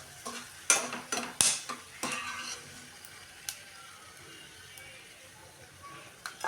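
Fried dry fruits are scooped out of hot ghee in a pan for rice payasam, a few sharp metal scrapes and clinks early on, then a faint sizzle with occasional light taps.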